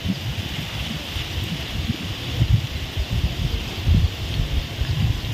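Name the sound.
wind blowing outdoors in the Philippine province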